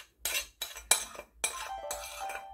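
Pempek fish dough mixture being stirred in a bowl, giving a series of light clinking and scraping bursts of utensil against the dish, close and quiet, in about five short strokes.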